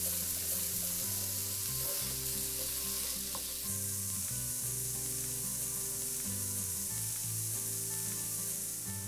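Onions sizzle steadily in a pan with chopped garlic and ginger added, a constant loud frying hiss with occasional stirring scrapes, no talking.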